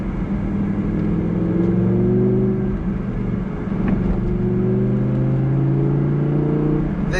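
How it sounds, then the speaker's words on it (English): Audi R8 5.2 V10 Plus engine pulling hard in dynamic mode with paddle shifts, a loud, steady rising drone from inside the car with harmonic sweeps that dip briefly mid-run before climbing again. "I'm just driving the car at the moment in dynamic mode, in the way the car should be driven"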